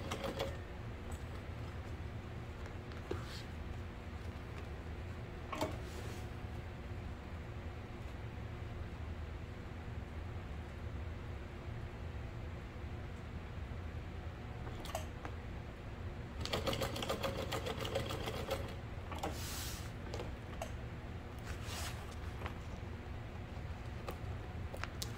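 A sewing machine runs a basting stitch along a seam while making a tote bag, faint rapid needle clatter in short bursts over a quiet steady hum, no talking.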